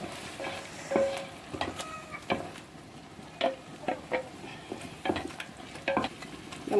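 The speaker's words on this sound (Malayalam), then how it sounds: "അപ്പോൾ നമുക്കിത് ഇതിലൊഴിച്ച് നന്നായി കൂട്ടിക്കാം." Tomato paste poured into a sizzling pot for Palakkad-style beef biryani and stirred, a low hiss under repeated scraping and clattering strokes of a spoon against the pot, near and without talk.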